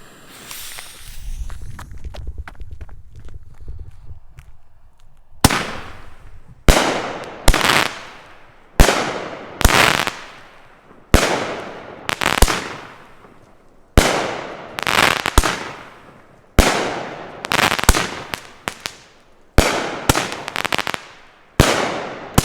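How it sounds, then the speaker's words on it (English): A Twisted 9-shot, 1-inch fireworks cake by Sky Painter fires outdoors. After a few seconds of quiet fuse hiss, a loud series of sharp, evenly spaced bangs pops one after another, each ringing out briefly. "here goes Twisted by Sky Painter Fireworks."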